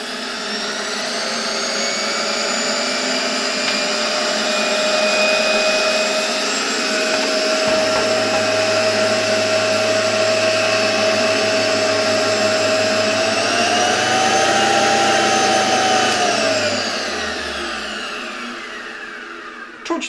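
A 1928 Electrolux XI vacuum cleaner runs with a loud, steady motor whine and rushing air, its pitch climbing slightly later before the motor spins down and fades near the end.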